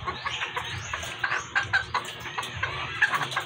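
Hens cluck steadily in a farmyard flock, with overlapping calls and chirps that are close and moderately loud over a constant noisy background.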